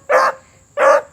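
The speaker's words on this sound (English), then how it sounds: "I forget what it's like to have a hound dog." A hound dog gives two loud, close barks, each a short bay-like burst about a third of a second long, separated by a brief pause, with no talking.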